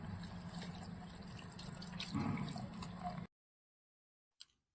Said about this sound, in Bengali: এই থালাটার উপরেই জলটা মশলাটা ধোয়া জল আমি দিয়ে দেব এই জলটা আমি পাশ দিয়ে দিয়ে দেবো